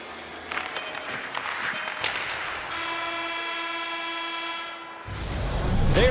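The loud period-end horn in the NHL 25 ice hockey video game gives a sustained, steady blare for about two seconds over a noisy arena crowd. Cheering and applause swell right after it stops.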